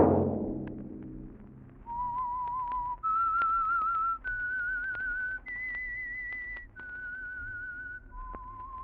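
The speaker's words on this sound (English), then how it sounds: "Let that whistle be your signal for the Signal Oil program, The Whistler, each Monday at this same time." A clear melodic whistle serving as the theme signal of the radio program The Whistler, playing a slow series of sustained, sliding notes alone after a brief burst at the start.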